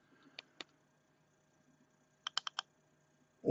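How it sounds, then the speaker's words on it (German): Two quick double clicks on the buttons of an EXUS 200 watt box mod, sharp close plastic taps, a pair early and a rapid cluster of four later, in a quiet room with no talking. "Dann könnt ihr eine von den zwei Tasten mit zweimal schnellem Klicken."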